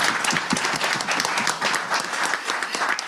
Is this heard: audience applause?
yes